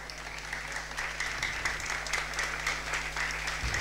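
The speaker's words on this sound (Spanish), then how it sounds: "den un aplauso al Señor por eso." Church congregation applauding steadily at a Spanish-language service led by a pastor, a dense, continuous wash of many hands clapping throughout, with a low steady hum underneath.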